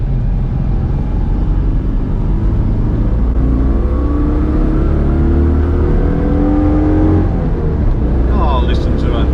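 A Citroen 2CV driving on the road, its small engine droning steadily with a rising and shifting pitch as it accelerates, loud and close inside the cabin.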